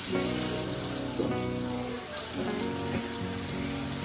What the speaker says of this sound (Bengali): এরপরে আমি পেঁয়াজগুলো একটু ভেজে তার মধ্যে শীতল শুটকিগুলো দিয়ে দিচ্ছি